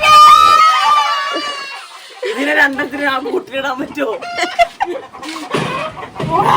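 Chickens cluck and squawk close by, the birds' calls mixing with people talking over them throughout.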